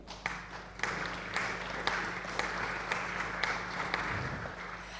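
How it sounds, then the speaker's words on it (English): Conference audience at a DOTBrno meetup applauding as a speaker comes on stage, moderate clapping with a few sharper claps standing out over a low steady hum. "please come on stage and applause for him"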